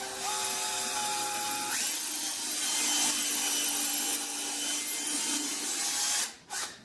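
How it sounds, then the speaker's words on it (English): A 1/8 inch drill bores an air hole through a wooden tobacco pipe, a continuous close whine and grinding rasp that shifts pitch slightly before stopping abruptly. "we've got the 1/8 inch air hole drilled now"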